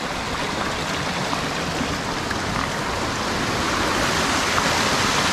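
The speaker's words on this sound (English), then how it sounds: "Really cool waterfall." Steady broadband rush of a waterfall near an abandoned historical mining town in New Zealand, pouring down toward a dam reservoir; continuous and fairly loud with no talking.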